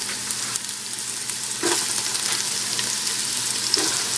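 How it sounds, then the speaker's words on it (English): Mushrooms sizzle in a hot pan, a steady close hiss of frying that grows a little louder partway through as more are added. "I went ahead and dropped a mushroom in. She's sizzling, so it's ready to go."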